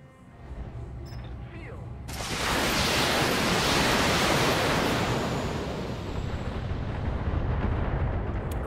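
A volley of missiles strikes mechs in the BattleTech video game, erupting as a sudden broad roar that swells and rumbles on for several seconds after a quieter lead-in.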